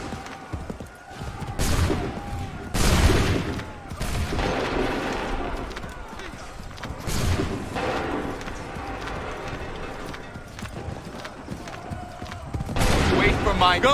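Musket volleys crack out in bursts during a battle in Assassin's Creed 3 at Lexington, loud booming shots with rumbling tails, mixed with shouted commands, crowd noise and hoofbeats throughout.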